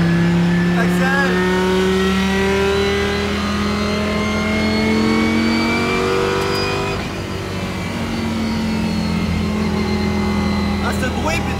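A Lamborghini race car built for the 24 Hours of Spa roars from onboard, its engine note loud and close as it climbs in pitch, dips briefly, then rises again, with a voice heard under the engine.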